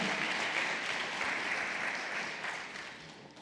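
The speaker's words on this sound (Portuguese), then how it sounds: "Pode aplaudir, glorifica a Deus." A church congregation claps steadily during a sermon, a soft, even patter of applause heard from a distance that slowly fades toward the end.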